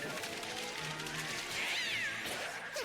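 A cartoon cat in a Teamfight Tactics chibi finisher animation gives a clear, rising-then-falling meow over busy, bright background game music and effects, moderately loud.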